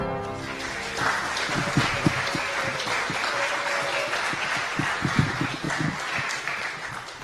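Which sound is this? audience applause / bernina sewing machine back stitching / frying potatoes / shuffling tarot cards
audience applause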